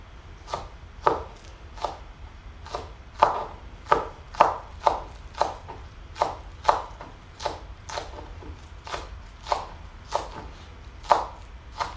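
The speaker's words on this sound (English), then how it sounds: "Chop off the roots and just slice them up." Knife slicing green onions on a cutting board, a steady run of about twenty crisp, evenly spaced chops, close and clear with no talk.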